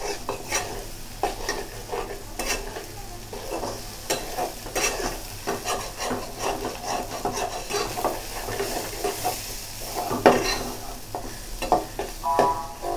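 Goat brain bhuna frying in a pan is stirred briskly, a spoon scraping in quick repeated strokes over a constant sizzle, close and fairly loud, with no talk.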